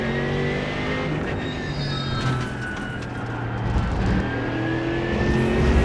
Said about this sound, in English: I think the Merc sounds better than anything on the game